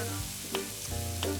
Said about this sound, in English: an onion, of course, a little oil, just keep an eye on your onions.